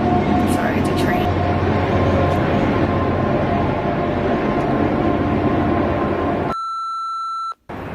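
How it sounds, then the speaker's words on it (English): A train rumbles past loud and close in a steady broad roar for several seconds, then cuts off sharply, leaving a clear electronic beep tone near the end. "sorry, it's a train."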